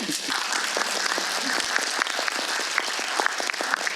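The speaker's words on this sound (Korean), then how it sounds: "좀 박수 한번 부탁드립니다" A film screening audience at a post-screening talk with the director and actors gives a round of applause, dense clapping from many hands that is close and steady for the whole stretch.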